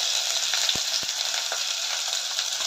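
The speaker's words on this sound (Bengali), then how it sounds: "এক চামচ ঘি দিলাম এর মধ্যে, সামান্য পরিমাণ জিরে নিয়েছিলাম সেটাও দিয়ে দিচ্ছি" Cumin seeds sizzle in a spoonful of hot ghee, giving a soft, even hiss with a few faint ticks and pops, no talking.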